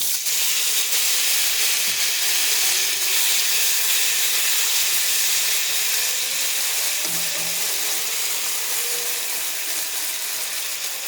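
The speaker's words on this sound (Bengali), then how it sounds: "জিরাটা ফ্রাই হয়ে গেছে, এখন আমি এখানে টমেটো আর পেঁয়াজটা দিয়ে দেব।" Tomatoes and onions fry with cumin in oil in a pan. A steady, close, loud sizzle and hiss runs throughout, with a faint clink of stirring partway through.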